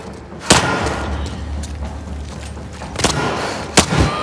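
Gunfire in the video game The Last of Us Part II, several loud, sharp booming reports spaced irregularly over a low background, with two shots landing close together near the end.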